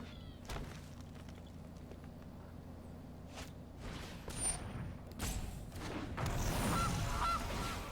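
A goose honks repeatedly in the MTG Arena digital card game, Kaldheim set, as the Gilded Goose card is played: several loud, close honks with flapping and shuffling effects, building to a denser burst near the end.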